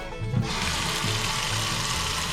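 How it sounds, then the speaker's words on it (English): An RV bathroom faucet opens and runs while the water line is bled of air after a filter change. A brief clunk comes first, then a steady, even hiss of flowing water. "And we'll do the bathroom faucet."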